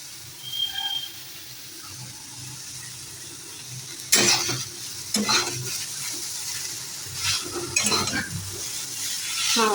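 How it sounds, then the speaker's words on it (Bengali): Eggplant slices frying in oil in a home kitchen, a steady near sizzle with sharp bursts of spatter and stirring scrapes partway through. "বেগুন ভাজা একটু করছি"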